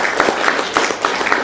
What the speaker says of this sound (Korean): 다시 한번 감사의 박수 좀 해주시기 바랍니다